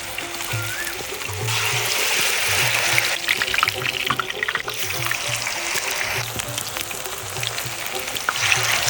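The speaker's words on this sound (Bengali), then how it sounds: "এবার আমি লাউর পাতাগুলো সুন্দরভাবে ভেজে নেব" Battered gourd leaves fry in hot oil with a steady, bubbling sizzle that fills the whole stretch. Low pulsing hums repeat underneath, with faint clatters now and then.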